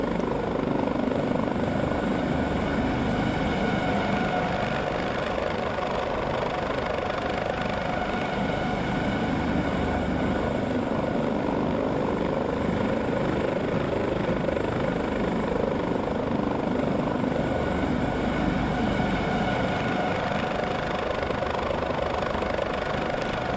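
An AS565 helicopter flies over Manhattan in the X-Plane 11 flight simulator. Its steady rotor and turbine drone holds at an even, moderate loudness for the whole stretch, with no talking.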